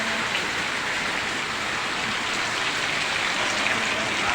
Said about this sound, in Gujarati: આપણે સવારમાં આવી ગયો છે વરસાદ